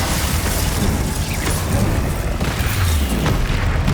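Bombarda spell blasts in Hogwarts Legacy combat, a steady stream of dense booming impacts layered with rumbling low thuds and scattered pops, loud and continuous with no clear gaps.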